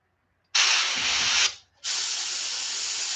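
Spray paint hisses onto a fishing lure in two close, steady bursts, the first about a second long and the second longer, separated by a brief pause.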